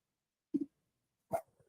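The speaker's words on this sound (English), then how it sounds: "I know you hear my dogs." Two short, sharp dog barks a moment apart, close by, with a small yelp trailing the second.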